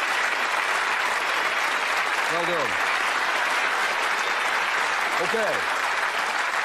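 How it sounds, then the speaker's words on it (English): A studio audience on the game show Bullseye applauds loudly and continuously, a dense wash of clapping that a host's brief words cut through twice. "Give them a round of applause."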